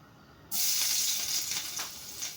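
Garlic dropped into a hot oiled pan, the start of sautéed bitter melon (ginisang ampalaya), bursts into a loud, steady sizzle that hisses on close by without any talk over it.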